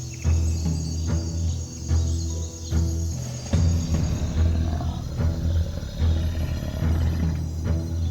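A lion roars while being attacked by a pack of hyenas on the savanna, with loud, sustained low roaring in repeated surges and a steady insect chirr running underneath.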